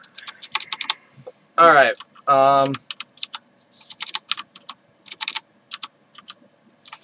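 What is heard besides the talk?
typing on a gaming computer keyboard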